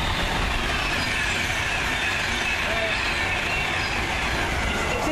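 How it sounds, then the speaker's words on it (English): A Pendolino train passes by on a fenced London line, giving a loud, steady broadband rush of wheels and rail noise throughout, close to the listener. "the little generic Pendolino going past"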